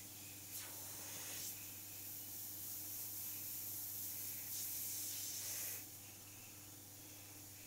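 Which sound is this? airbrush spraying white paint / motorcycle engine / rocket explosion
airbrush spraying white paint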